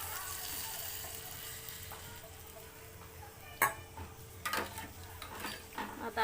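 Cooked dal poured into a hot tempering for Marathi varan, with a steady sizzle and frying hiss that gives way to sharper splashes, clinks and stirring noises near the end.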